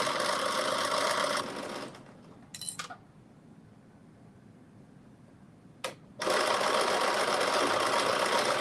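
A sewing machine runs fast stitching a drop-shoulder long-sleeve top, then stops for a few seconds with brief clicks and handling before whirring loudly again, no speech.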